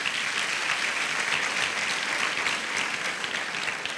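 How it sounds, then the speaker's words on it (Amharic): A church congregation claps for itself in a sustained, even burst of applause from many hands filling the hall, with no talking over it. "ለራሳችሁ አጨብጭቡ።"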